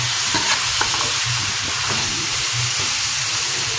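Chopsuey with black pepper is stirred in a hot pan, giving a loud, steady sizzle and hiss with soft scraping and stirring movements all the way through.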